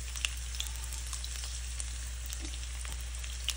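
Pork chops frying in oil in a hot pan, giving a steady, even sizzle with faint crackles and occasional soft pops, close and continuous with no talking.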